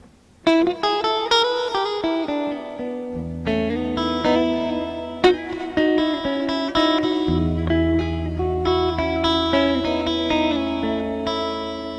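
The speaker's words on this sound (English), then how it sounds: "think I'll try it on this guitar and see the tones of the." An electric guitar played through effects rings out with plucked notes and sustained chords, bright and distorted with a reverberant tail, steady and close with no talking.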